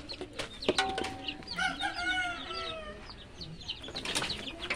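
Chickens clucking and squawking close by in a Filipino yard, with a burst of wing flapping and varied calls over a short stretch, a fowl's cry rising amid the flock.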